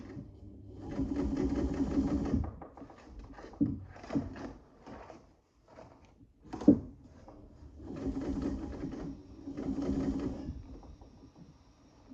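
Class 15 clone sewing machine modified for heavy-duty marine canvas, stitching in several bursts of rapid mechanical whirring with short pauses and clicks between runs, close and moderately loud.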